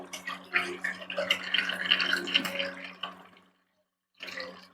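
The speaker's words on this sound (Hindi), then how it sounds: "पानी अभी अभी आया है और थोड़ा सा पानी निकल जाए" A household kitchen tap running right after the water supply returns, a steady close splashing gush that stops abruptly and then briefly starts again.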